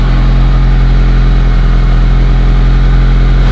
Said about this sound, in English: Stock idle check.